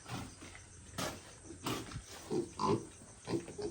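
Grunts from native pigs on a rural Philippine farm, several low rough bursts at irregular intervals, fairly close with faint background noise and no talk.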